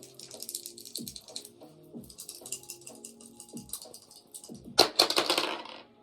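Dice rolled and tumbling onto a hard surface, several rattling clatters in quick succession, close and moderately loud, with a brief shaking burst near the end.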